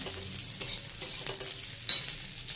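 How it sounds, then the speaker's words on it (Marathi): Sliced onion stir-fries in hot oil over a high flame, a steady close sizzle broken by a few scraping stirs of the spoon through the pan. "ते घालून चांगलं तेलात परतून घ्यायचं आहे फास्ट गॅसवर."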